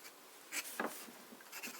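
A Lamy Safari fountain pen with an italic nib scratches softly across paper in a few short, faint strokes, close up and quiet with no talking.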